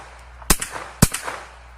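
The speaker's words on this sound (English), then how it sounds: "All I did was shoot that grill." Two sharp gunshots at an outdoor gun range, each striking a metal grill target about 40 yards away, spaced roughly half a second apart with a brief ringing tail after each, over a light breeze.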